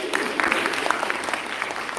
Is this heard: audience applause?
yes